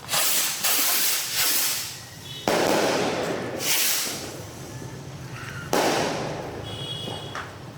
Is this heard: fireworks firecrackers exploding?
yes